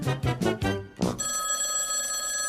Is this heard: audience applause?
no